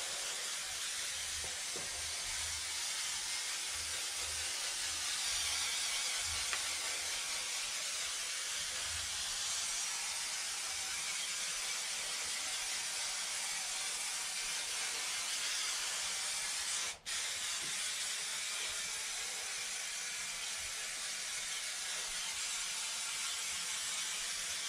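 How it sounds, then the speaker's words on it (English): Spray adhesive hisses onto wood and carpet inside a camper van in a long, steady, fairly faint spray that barely changes, with one brief break near the end. "spray the wood and spray the carpet whilst in situ"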